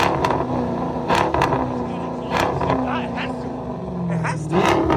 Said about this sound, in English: Hit the rev again one more time.